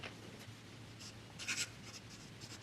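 A Lamy fountain pen with a broad-based nib, filled with Peridot ink, scratches quietly across paper in short strokes, faint and close with no talking.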